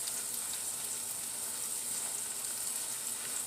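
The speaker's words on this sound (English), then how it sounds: "So I'm going to let that saute a little bit." Greens sautéing in a pan, a steady, even sizzle that runs without a break throughout, close and fairly soft.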